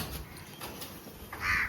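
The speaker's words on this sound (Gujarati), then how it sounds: "1 લાખ કાકડા જ આવ્યા છે." Crows caw harshly near a rural family home and workshop where many have gathered, one loud raspy call rising at the end over a faint background hiss.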